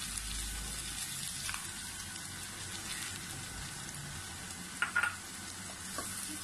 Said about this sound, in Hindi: अब हम इसमें टमाटो प्योरी ऐड कर देंगे।